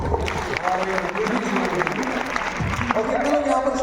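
Audience clapping at a large company meeting in Patna, a steady mid-level patter of many hands with a voice talking over it.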